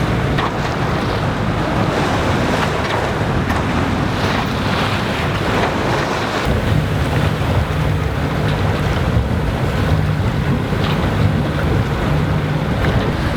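A sailboat motor-sails through wind and waves along the Golfe de Lion coast, dodging the Mistral: loud, constant rushing wind buffets the microphone over the churn of sea water and a low engine drone, with no voices.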